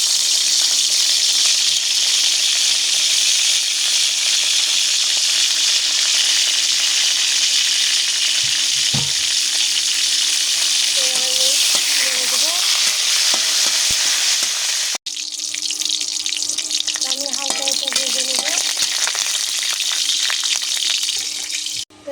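Bay leaves and spices sizzle in hot oil in a home kitchen while making carrot halwa, a loud continuous frying crackle with faint stirring and clinks, briefly interrupted then resuming.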